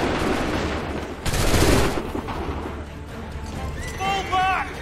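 Soldiers fire a loud volley of muskets in Assassin's Creed III, a dense burst of shots mid-clip amid battlefield noise, with a voice shouting near the end.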